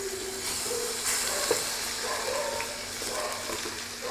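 Steady sizzling of tomatoes frying in hot oil, a continuous crackling hiss with small pops throughout.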